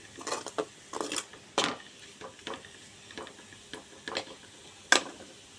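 A spoon stirring a potato fry in a pan, giving scattered scraping and clinking strokes at an irregular rhythm, fairly faint and close, with no talking.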